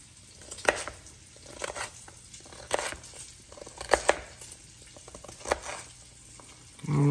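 A knife chops a carrot on a cutting board, a series of sharp, irregular close-up knocks spaced across several seconds, fairly quiet, with a louder clatter at the end.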